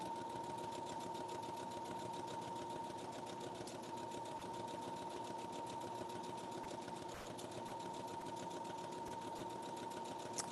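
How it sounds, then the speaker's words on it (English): Sewing machine stitching in the ditch along a crease line of an apron, running in a steady, rapid, even hum with a fast needle rhythm throughout; quiet and close, with no talking. "We are stitching in the ditch. I'm stitching on that red line, that first crease line"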